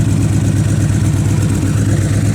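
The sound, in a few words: Victory Vision motorcycle engine idling with D&D exhaust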